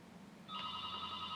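An office phone's electronic ring at a small law firm starts partway through and holds steady to the end, sitting over a faint room hum in a quiet background with no one talking.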